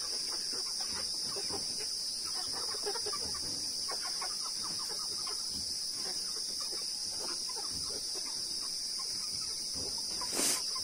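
Chickens and a caught rooster cluck and stir close by in a steady scatter of short calls, over a constant high insect drone, with a brief louder squawk near the end.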